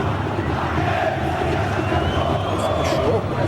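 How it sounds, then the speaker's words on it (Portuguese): Dense roar of Corinthians supporters cheering and chanting inside a stadium in Argentina, a steady crowd wash with a few louder whistles and shouts rising near the end. "Vamos mostrar aí a torcida do Corinthians ontem,"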